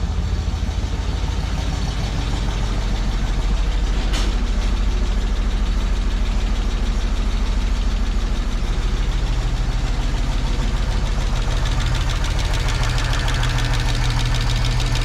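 An Audi Coupe engine idling right after its first start in over a year, a steady close-up rumble overlaid with a persistent rapid ticking from noisy valve lifters, with no speech.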